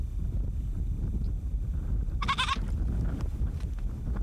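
A sick, dying goat in the Sahara gives one short, loud bleat midway through a low windy rumble, otherwise quiet with no voices.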